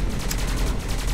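Rapid machine-gun fire from the Artilleur class in the video game Skyforge, a steady burst of repeated shots with an even, fast rhythm that is loud and close, with no voices over it.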